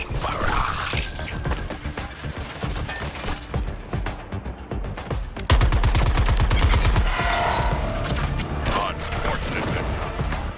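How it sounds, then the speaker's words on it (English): Sustained gunfire barrage in the Suicide Squad: Kill The Justice League game, loud continuous bursts with rapid machine-gun rattling and booms, dense and unbroken throughout, with some voice mixed beneath. "Commencing barrage."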